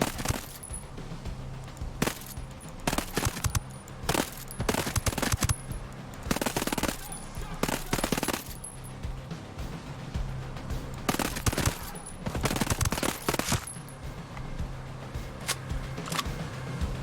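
Rapid automatic gunfire from a video game weapon bursts out in repeated loud, close volleys over seventeen seconds, with short gaps between bursts and a steady background hum.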